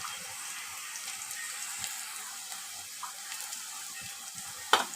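Onions fry until brown for chicken curry, giving a soft, steady sizzle with faint scattered crackles and one brief sharper clink near the end.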